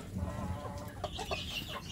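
Free-range village chickens cluck softly in a farmyard among egg-laying hens, with a few short clucks and calls over a faint, steady background.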